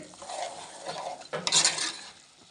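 Chicken curry with masala being stirred in a pot, a close scraping and sloshing that grows louder and briefer near the middle, with no talk.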